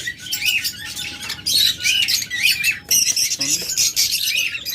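Lovebirds and cockatiels call close by in a loud, busy chorus of shrill squawks and chirps, overlapping in quick bursts with hardly a pause.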